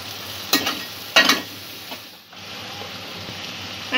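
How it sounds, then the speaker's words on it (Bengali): Spiced masala with tomato paste frying on a low gas flame for Bengali aloo dum, with a steady soft sizzle and a few louder stirring scrapes in the pan. "গ্যাসের ফ্লেমটা লো করে মশলাটা একটু কষে নেব।"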